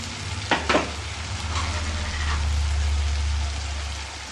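Tomatoes sauté in a pan for Tirunelveli-style fish curry, giving a steady sizzle with a couple of sharp stirring clatters near the start and a low hum underneath, no talk.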